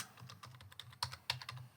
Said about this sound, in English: on this one then, we're going to type every time.